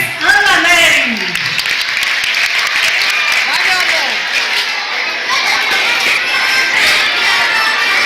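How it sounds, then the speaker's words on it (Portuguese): An audience at a live cultural event in Coité breaks into sustained applause, a dense steady patter of many hands, with a voice speaking over the start and crowd chatter mixed in. "Para o aplauso de vocês, Ana Nery."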